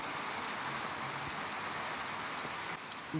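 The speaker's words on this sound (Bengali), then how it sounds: "বৃষ্টি হচ্ছে মুষলধারে" Heavy pouring rain during a kalbaishakhi storm, a steady, dense hiss of downpour that fills the whole clip at an even level, with no voices.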